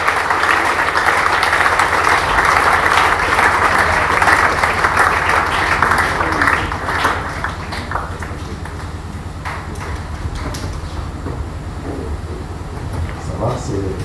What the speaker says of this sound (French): Est-ce que nous pouvons l'acclamer très fort?